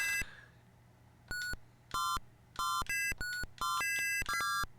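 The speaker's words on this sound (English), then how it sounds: "Why does it sound like I'm dialing on a phone?" Bright electronic beeps from the Astrocade crosswords video game, like telephone dialing tones, come in short separate bursts and then quicken into a near-continuous rapid sequence.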